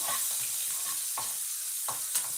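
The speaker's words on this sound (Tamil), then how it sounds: "நல்லா ப்ரௌன் கலர் வர வரை வெங்காயத்தை வதக்கிக்கலாம்" Onions being sautéed until brown for a drumstick-leaf rice dish crackle in a pan under steady sizzling, while a spoon stirs in repeated scraping strokes up close, no voices heard.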